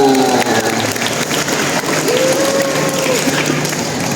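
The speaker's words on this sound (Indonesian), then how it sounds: "Tepuk tangan untuk kita semuanya." Applause from a crowd at a school feast-day mass fills the space, sustained and fairly loud, with a voice speaking faintly underneath.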